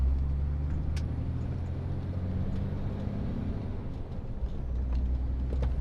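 A car engine rumbles steadily under load while driving the road from Andover to Devizes, a constant low drone with faint road noise and occasional light clicks inside the cabin, with no talking.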